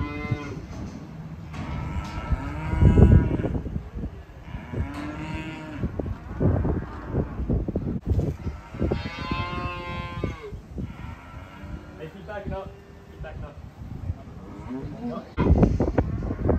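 Calves moo repeatedly inside a stall on a farm, loud and close, the deep bellowing calls recurring through the clip while a person talks over them.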